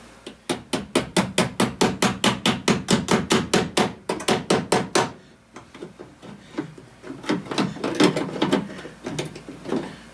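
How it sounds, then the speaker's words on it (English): A fast, steady series of sharp metallic hammer blows folding a metal panel edge over a dolly on an MGB GT restoration, then a brief pause before a looser, uneven run of strikes on metal. "So I'm just hammer this edge over a little bit."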